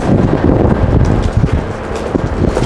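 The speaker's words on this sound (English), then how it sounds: "That sound is just crap stuck in this tire" Debris caught in the sealant-filled tire of a brand new Onewheel XR electric board makes a rapid, rhythmic clatter while riding outdoors, under steady wind rush and rolling noise with no talking.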